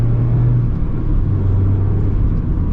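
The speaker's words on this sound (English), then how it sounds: "Rev match downshift." A Mazda Miata engine, fitted with the Brembo brake and BBS wheel package, revs during a rev-match downshift from inside the cabin, a loud, steady car drone with a pitch shift partway through and no talk.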